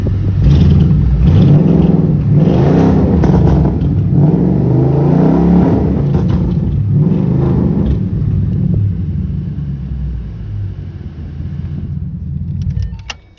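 A Ford Mustang under repair idles close by in a cold garage, its engine and exhaust giving a loud, steady low rumble with a few rising revs that later settles to a quieter idle.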